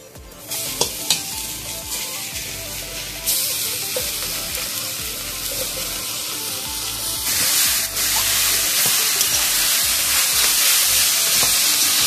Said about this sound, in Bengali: এবার ভালোভাবে এটা নাড়তে থাকবো।